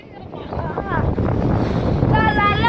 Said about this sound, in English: It's actually windy out here